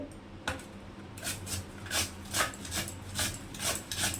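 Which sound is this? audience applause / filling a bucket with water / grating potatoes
grating potatoes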